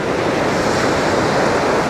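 Black Sea surf pounds the shore at Anapa in stormy weather, a dense, continuous roar of breaking waves with heavy wind buffeting the microphone.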